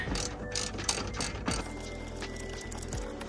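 A hand ratchet works a 13mm bolt loose on a 2014-2018 GMC Sierra Denali truck, with rapid close clicking of the pawl that runs steadily throughout, no voices over it.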